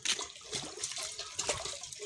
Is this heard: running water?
yes